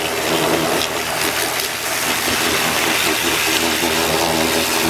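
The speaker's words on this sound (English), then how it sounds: "is basically a 0-degree pressure washer tip" A spinning 0-degree pressure washer tip blasts a muddy dirt bike, producing a loud, continuous broadband hiss of spraying water with an engine-like drone underneath, close and steady throughout.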